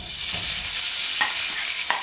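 Potatoes sizzle in a frying pan with their marinade, a steady loud frying hiss throughout with a couple of soft stirring scrapes and no talking.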